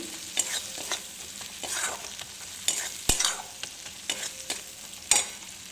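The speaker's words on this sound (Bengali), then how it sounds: "ভালো করে কষিয়ে নেব" Spices are sautéed and stirred in a pan, with a busy run of scraping spatula strokes and sharp knocks over a low, continuous sizzle, close and fairly loud.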